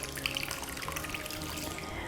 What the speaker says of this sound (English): To that, I'm going to add in 1 cup of hot water.